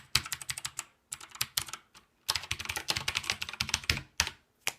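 Fast bursts of clicky keystrokes from a HAVIT mechanical gaming keyboard with blue switches, typed with both hands, close and crisp, with short pauses between runs.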